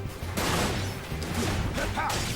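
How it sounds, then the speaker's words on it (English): Gunfire bursts in a Dirge of Cerberus: Final Fantasy VII shootout, loud crackling volleys mixed with crashes and explosions in the game, continuous and dense with brief dips, no voices. "someone's still shooting at me"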